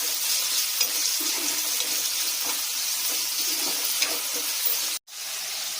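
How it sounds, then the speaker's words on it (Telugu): Onions, tomato and green chillies frying in a pan for oats upma, a steady close sizzle with soft stirring scrapes, briefly broken by a sharp knock near the end. "ఇవి వేగాక కొంచెం ఆనియన్స్, టమాటో, పచ్చిమిరపకాయలు ఇవన్నీ వేసి బాగా ఫ్రై చేయాలి."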